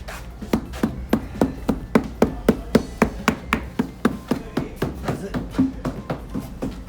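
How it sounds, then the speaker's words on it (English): A hammer beats on the sides and undersides of concrete forms, a brisk run of roughly twenty sharp knocks in a fairly even rhythm, loud and close with slight wooden ring. "take a hammer and beat on the sides of the forms and underneath the forms"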